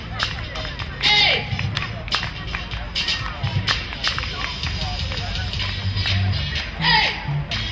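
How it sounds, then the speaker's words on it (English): Rhythmic hand clapping from a lively church crowd, steady beats mixed with shouting voices and bustling noise close by. "Come on, clap your hands!"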